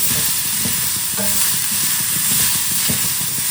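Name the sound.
cabbage stir-fry (poriyal) sizzling while being stirred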